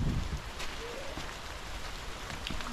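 Rain falls steadily in a soft, continuous hiss, faint and even throughout with no voices.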